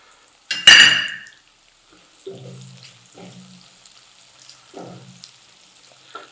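Chopped onion and ginger hit hot oil with a sharp, loud sizzle, then a few metallic clinks of a spoon stirring in the pan follow at intervals, close and without talk.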